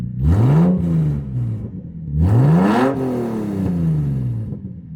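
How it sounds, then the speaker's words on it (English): Car engine with a Spec D Tuning exhaust and a loosened Y pipe revs twice, each rev climbing in pitch and then sliding back down to a steady idle. The sound is loud and close, with no voices over it. "Rev it a little bit."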